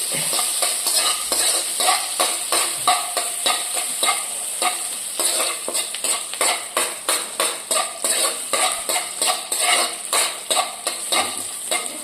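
Mustard seeds crackle in hot oil in a pan, layered over a rapid, rhythmic scraping and stirring of a utensil against metal that keeps going loud and close throughout.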